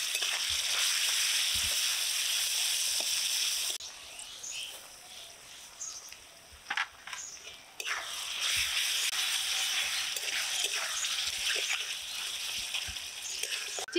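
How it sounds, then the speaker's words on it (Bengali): Raw mango chutney fries in oil with salt, turmeric and chili powder, giving a bright continuous sizzle that dips for a few seconds while a spoon stirs and scrapes the spices in, then rises again. No one speaks. "নেড়ে চেড়ে মশলাটা মিশিয়ে দিচ্ছি।"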